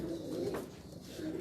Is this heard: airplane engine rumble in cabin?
no